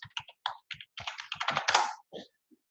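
Rapid clattering keystrokes on a computer keyboard as a travel company name is entered, a quick burst of close, crisp clicks with short pauses, growing denser toward the end before a final couple of taps.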